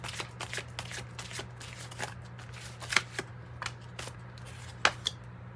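Kipper oracle cards blended with an Osho Zen tarot deck are shuffled close by, giving a steady stream of soft papery riffles with a few sharper snaps, with no talking.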